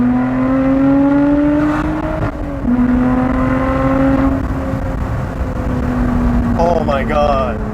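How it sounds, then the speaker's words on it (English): A Lotus Exige 410 V6 engine pulls hard up through the gears from inside the cabin, its droning note rising then dropping sharply at each shift, loud and close, with brief talk near the end. "one of the sexiest sounding V6 I've ever driven in my life"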